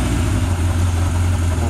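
A 1981 Honda CB750K motorcycle engine running steadily at slightly raised RPM, a close, even low hum that holds constant with no rise or drop across the short stretch.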